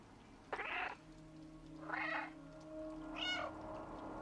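Injured cat with a hurt leg in the video game Stray, giving three separate plaintive meows about a second apart, clear and close over a low humming game ambience.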